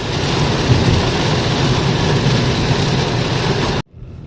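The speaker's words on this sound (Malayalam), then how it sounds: "നല്ല കോരിച്ചൊരിയുന്ന മഴയാ." Heavy pouring rain hammering down on a road in Gujarat, a loud dense wash of noise that stays steady throughout, then cuts out abruptly near the end, leaving a faint quiet tail.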